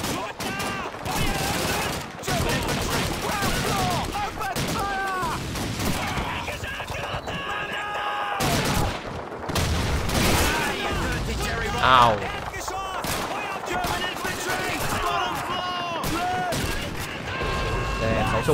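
Machine gun fire in the Call of Duty video game rattles in repeated bursts with scattered gunshots and in-game clatter, while a player talks over the action and briefly cries out.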